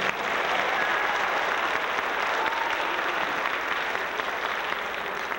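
A concert audience at a show in Chicago claps warmly, a dense, sustained wash of applause that holds steady from start to finish with no voices standing out.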